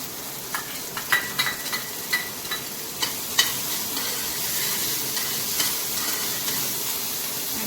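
Onions go into hot oil with cumin seeds in a pan, starting with a few sharp spoon taps and stirring clatters, then settling into a dense, steady hiss of frying with no voices.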